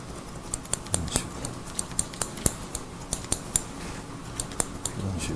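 Scissors snipping hair in a salon during a clipper-over-comb haircut on a client's short hair, a steady run of crisp, close metallic snips at an even rhythm.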